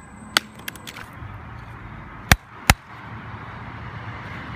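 A few sharp, hard impacts: one early crack, then two loud knocks close together as a ZTE Obsidian phone strikes rock, against a quiet outdoor background.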